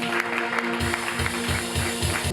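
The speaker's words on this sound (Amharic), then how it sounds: "አጨብጭቡ ለጌታ ክብር።" A church congregation at an Ethiopian Protestant prophecy service claps in steady rhythmic beats over sustained keyboard music, the clapping starting after a short pause and continuing evenly.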